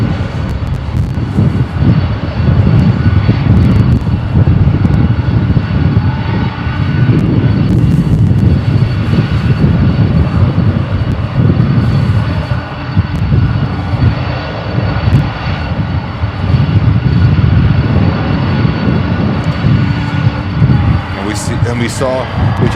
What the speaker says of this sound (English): We just saw Lufthansa 340-600 taxiing in the background.